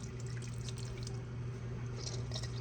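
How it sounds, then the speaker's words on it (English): Liquid drips and trickles steadily as homemade butter made from raw milk is squeezed in a colander, a continuous close watery patter with no talking. "Just gonna take it and squeeze as much of the excess liquid as I can out of here"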